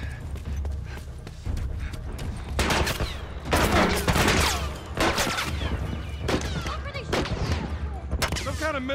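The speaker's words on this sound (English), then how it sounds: "Some kind of military turret." Rapid bursts of heavy gunfire from a military turret in The Last of Us Remastered, loud and close, with repeated volleys and impacts over about nine seconds while voices shout underneath.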